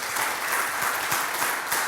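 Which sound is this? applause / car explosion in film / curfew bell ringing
applause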